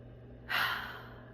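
A single deep inhaled breath through the mouth, close and fairly soft, rising quickly and then tapering off over about a second, heard alone with no talking.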